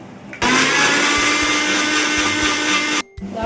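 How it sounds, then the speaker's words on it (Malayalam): A mixer grinder whirs loudly at full speed, blending four small tomatoes for a paneer curry, starting abruptly, running steadily for about two and a half seconds, then cutting off. "ഇത് നമുക്ക് നന്നായിട്ട് അരച്ചെടുക്കണം."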